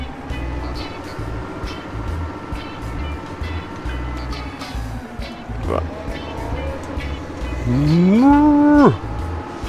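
Cattle in Farming Simulator 2017 moo over a droning, steady background with faint music, ending with one loud, close, drawn-out moo.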